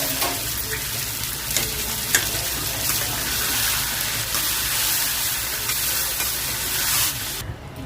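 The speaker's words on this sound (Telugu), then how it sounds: "సో కడిగిన చికెన్ వేసేసుకున్నాం. వేసుకుని కలుపుకుందాం." Washed chicken pieces hit hot oil for a half-plate chicken curry and get stirred. A loud, continuous sizzle with spatula scrapes runs throughout, then drops off sharply in the final moment.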